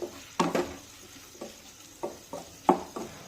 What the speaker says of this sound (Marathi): हा टोमॅटो सुद्धा मऊ होईपर्यंत परतून घेऊया